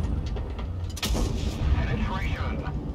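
Tank cannon fire in World of Tanks Blitz, in a battle with a 53TP pushing on a Skoda: a sharp, loud boom lands about a second in, then a second blast with rumbling low-end decay over the continuing battle noise.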